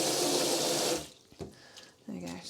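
Water from a tap runs steadily into a sink for about a second, then stops. After a few quiet clatters, the tap flows again.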